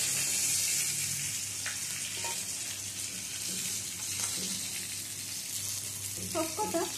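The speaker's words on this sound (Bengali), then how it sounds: "মাছের মাথাগুলোকে একটু ভালো করে ভেজে নেব" Hilsa fish heads fry in hot oil in a home kitchen, giving a steady, close sizzle and crackle that runs throughout, with a few clinks of a utensil near the end.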